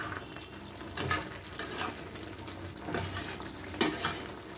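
Meat is slow-fried in a pan over a medium-high flame until its juices dry out and oil separates, giving a continuous close sizzle broken by a few louder bursts of stirring and scraping.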